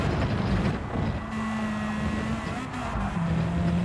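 Turbocharged race car engine in Gran Turismo 7 revving hard under acceleration, a loud sustained drone rising and shifting pitch through gear changes with no voices present.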